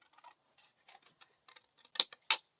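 Sharp scissor snips cutting a paper shape for a DIY Christmas tree craft, a run of soft close cuts building to two louder crisp snips near the end.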